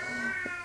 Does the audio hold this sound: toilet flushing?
no